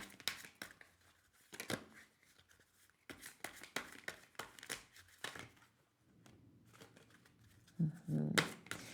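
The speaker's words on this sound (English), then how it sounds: "It's an interesting shuffling experience." Tarot cards are shuffled in quick riffling bursts, papery and close, separated by short pauses, with some rustling and a brief louder shuffle near the end.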